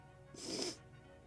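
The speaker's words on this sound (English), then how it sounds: "Let me sneeze." A single sneeze from a model-ship builder at a workbench, suffering an allergy after weeks of working with cyanoacrylate glue; one short, close burst with a sharp breathy hiss, alone and without talk.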